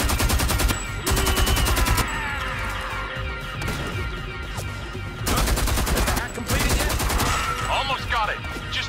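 Rapid automatic gunfire from a weapon in Homefront: The Revolution, loud bursts of fire broken by brief gaps, with game sounds between the volleys.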